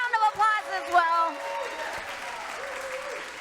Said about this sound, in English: let's give this donor a big round of applause as well